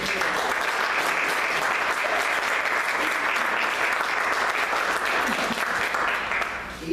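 A book-presentation audience gives warm applause for the author, Carlos Sánchez, a dense, even roar of many hands clapping continuously for nearly seven seconds before tapering slightly at the end.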